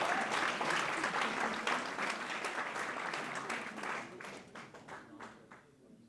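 Audience applause at a film screening in a Grenoble cinema, a dense burst of clapping from a crowd that thins out and fades into a few scattered claps.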